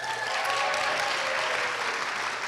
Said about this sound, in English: and everybody will applaud